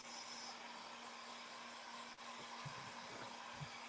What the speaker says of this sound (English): I'm just going to take my little dryer real quick because it does dry pretty fast